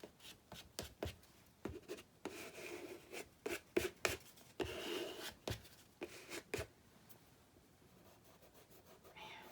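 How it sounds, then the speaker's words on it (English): Thin magazine paper rubbed by hand while assembling a collage, heard as repeated short scratchy brushes and rubs in irregular bursts, close and fairly quiet, with no talking. "I don't want to rub too hard. This paper is so thin."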